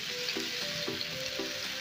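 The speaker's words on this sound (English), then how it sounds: "add the chopped ginger and garlic and continue to stir around" Chopped ginger, garlic and tomato frying in a pan, with a constant sizzle and a few rhythmic stirring scrapes repeating at even intervals.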